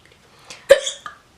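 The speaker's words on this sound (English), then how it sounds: "I got the hiccups." One sharp hiccup sounds close and clear with a short vocal tail, followed by a brief faint after-sound in near silence.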